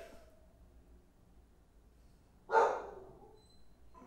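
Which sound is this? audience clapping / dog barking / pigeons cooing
dog barking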